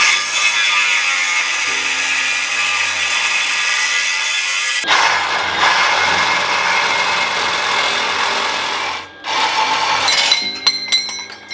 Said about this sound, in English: So for now, I'm gonna weld this in.